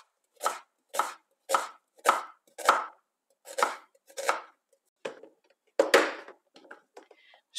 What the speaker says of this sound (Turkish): Önce bütün yemeklerde olduğu gibi bir adet kuru soğanımızı doğruyoruz.